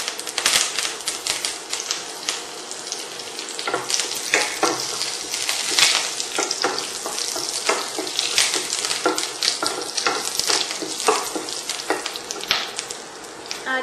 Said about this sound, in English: at this stage we will go ahead and add few curry leaves in it